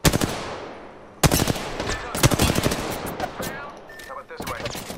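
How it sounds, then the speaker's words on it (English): Gunfire in the video game Apex Legends: a sharp opening shot, then loud rapid automatic bursts with brief gaps, ending in a few further rattling volleys. "Target spotted. Shooting."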